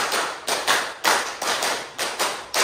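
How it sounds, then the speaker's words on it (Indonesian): Class of students clapping a rhythmic pattern in unison, sharp grouped claps in quick bursts with brief pauses between them, loud and close. "tepuk 4, tepuk 5, tepuk 5, 2 kali tepuk 5"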